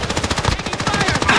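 Rapid automatic gunfire from Call of Duty Modern Warfare (2019), loud and close, with dense continuous bursts of shots running the whole time and no talk.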